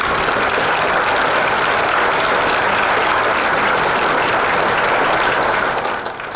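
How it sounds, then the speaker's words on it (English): A large graduation ceremony audience applauds steadily and loudly for about six seconds, a dense wash of clapping that holds even throughout before easing off at the very end. "Let's give them all a round of applause."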